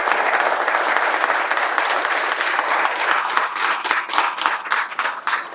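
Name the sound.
audience applause for Hanuman at a satsang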